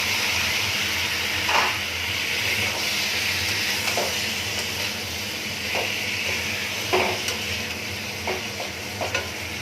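Taro and ridge gourd frying in spiced oil for a Bengali fish curry make a loud, close, continuous sizzle, broken every second or two by spatula scrapes and stirring clatter.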